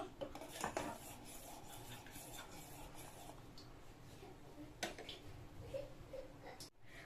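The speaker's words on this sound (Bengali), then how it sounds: "কন্টিনিউয়াস নেড়ে যেতে হবে, দেখতে পাচ্ছ?" Milk for kheer stirred continuously in a pan, giving faint scraping and rubbing of a spoon against the metal with occasional light clinks, steady and close.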